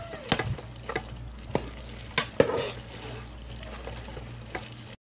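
Mac and cheese with a splash of milk being stirred in an Instant Pot, with a handful of clattering spoon knocks against the pot over a soft, wet background.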